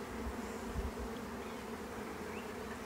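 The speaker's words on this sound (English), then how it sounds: "take every frame out and shake it into the brood chamber" Honeybees shaken off hive frames into a brood chamber, producing a steady, dense buzzing hum that fills the whole stretch, with a few soft low thumps from the frames near the start.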